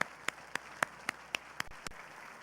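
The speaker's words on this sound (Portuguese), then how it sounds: "Aplauda o Senhor por isso." A handful of sharp, separate claps in an uneven rhythm during a church sermon, close by, with no crowd joining in.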